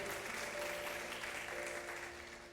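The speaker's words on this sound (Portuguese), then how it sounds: "Você pode aplaudir o Senhor." Church congregation applauding during a worship service, steady dense clapping from many hands filling the room for a few seconds with no voices over it.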